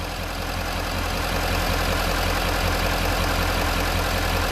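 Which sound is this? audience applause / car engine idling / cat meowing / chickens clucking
car engine idling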